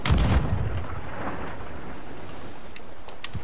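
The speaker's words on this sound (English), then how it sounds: "Oh, look at this cannonball! It's gonna hit!" A cannonball fires in a Chicken Run video game with one deep, heavy boom at the start, then a fading rumble and crackly noise that carries on to the end, with faint clicks near the close.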